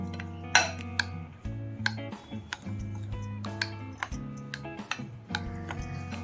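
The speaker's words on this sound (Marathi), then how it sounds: "एक वाटी दही आहे त्याला मिक्स करून घ्यायचं आहे" A spoon stirs a bowl of curd mixed with semolina, making repeated light clinks and scrapes against the bowl in an irregular rhythm, close and clear, with a low hum underneath.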